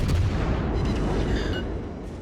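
A heavy naval gun salvo from the battleship Kremlin in World of Warships lands as a deep, booming rumble that rolls and fades over a couple of seconds, with no voices.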